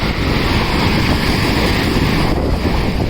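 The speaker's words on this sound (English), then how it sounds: "Such a big wave." Steady roaring surf at Besant Nagar Beach, Chennai, with broadband rushing noise and wind buffeting the microphone, continuous with no distinct pauses.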